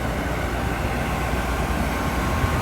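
An Amtrak Coast Starlight passenger train led by ALC-42 locomotives pulls into Vancouver, Washington. It makes a steady, loud broadband rumble and roar that holds constant throughout, with no voices.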